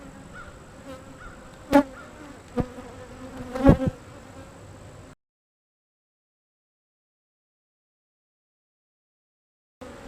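Honeybees drone steadily around an open hive full of heavy nectar frames, the buzz joined by a few sharp knocks, then dropping to silence for several seconds before resuming briefly at the end.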